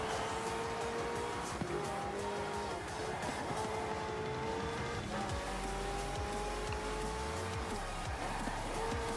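Racing car in Forza Horizon 4 driving hard through streets, with a steady engine drone, tire squeal and scraping impacts as it crashes into stone walls.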